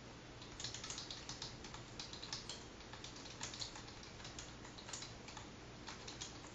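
Rapid keystrokes clatter on a computer keyboard in a quick, irregular run of soft clicks, close and faint, with no voices.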